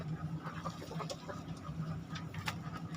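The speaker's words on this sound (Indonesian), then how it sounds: "Nah, ini ayam Bangkok." A Bangkok fighting rooster gives faint clucks and calls over a steady, noisy indoor background with a low hum.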